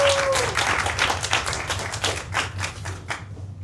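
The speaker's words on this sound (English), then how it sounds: "So another round of applause to Curtis." A small theatre audience at a fringe show applauds, a dense patter of close hand claps that thins and fades toward the end.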